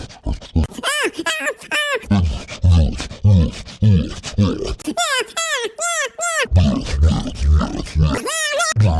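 A man imitates pig-like grunting and snorting, with rough, throaty bursts that repeat quickly and loudly up close.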